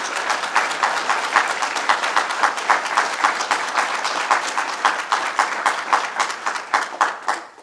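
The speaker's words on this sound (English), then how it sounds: "I'd like to give him a round of applause" Applause at a government event with Governor Cuomo: a room of people clapping in a fairly even, rhythmic pattern, loud and close, gradually thinning toward the end with almost no talk.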